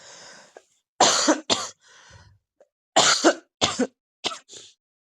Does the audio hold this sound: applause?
no